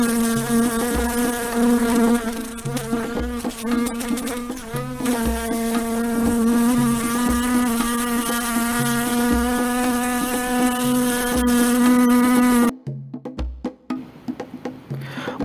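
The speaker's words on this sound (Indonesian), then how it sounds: "lalat kuda juga terkenal dengan suaranya yang sangat berisik saat terbang" A loud, steady horse fly buzz drones continuously, circling close by in flight, then cuts off abruptly near the end, leaving scattered fainter noise.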